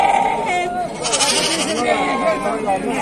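Sheep bleat repeatedly at a crowded livestock market in Füzuli, the calls rising and falling amid a steady din of people talking nearby.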